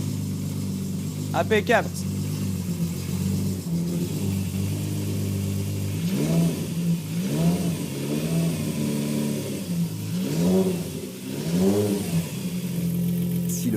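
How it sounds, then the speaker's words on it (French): Volkswagen Golf 3 with a VR6 engine starting and revving in a workshop, a mid-pitched engine hum under repeated rising blips of throttle, with someone speaking briefly early on. "Si le moteur vrombit bien dans tout l'atelier"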